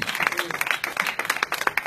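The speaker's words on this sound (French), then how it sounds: "Applaudissez pour nous, s'il vous plaît." A church congregation applauds, a quiet, brief patter of uneven hand claps heard from some distance, with a voice faintly mixed in.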